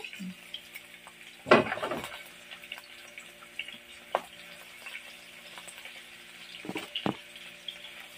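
Onion and garlic fry in a pan with a faint, steady sizzle, punctuated by a few scraping stirs and clanks of a utensil against metal, close by.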